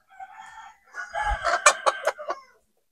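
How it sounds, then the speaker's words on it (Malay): Backyard laying hens cluck in a short burst, a few soft calls followed by a run of sharper, louder squawks, close by with no talking. "Ayam tengah sibuk bertelur ni."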